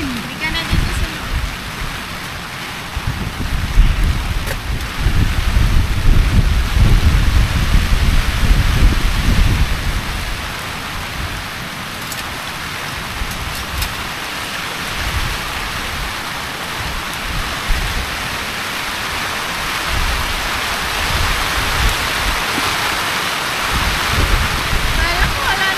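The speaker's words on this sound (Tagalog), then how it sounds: "Biglang umulan." Heavy rain falls during Typhoon Nika at a seaside campsite in Pangasinan, with a Naturehike Hillock 6 tent. A dense, continuous hiss swells loudest in the first ten seconds, then settles into a steady downpour.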